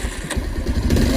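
A motorcycle engine runs at a steady, close rumble with a faint mechanical clatter, holding an even pitch throughout the short moment.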